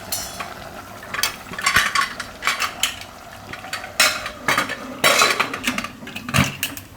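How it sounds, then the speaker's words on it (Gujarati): Pressure cooker lid being closed over a Gujarati onion and potato curry, with a run of metallic clanks and scrapes of pot and lid, close and moderately loud, no talking. "હવે આપણે કુકરનું ઢાંકણું બંધ કરી દેવું"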